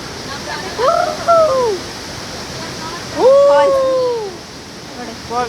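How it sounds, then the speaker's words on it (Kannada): A waterfall near the Gangtok ropeway roars as a loud, steady wash of rushing water. A voice rises over it in two short sung or called phrases. "ಬರೀ ಫಾಲ್ಸ್ ಸೌಂಡೇ ಕೇಳಿಸ್ತಾ ಇದೆ"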